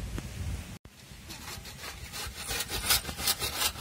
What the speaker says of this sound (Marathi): आता मी नारळ सगळं आपले किसून घेणार आहे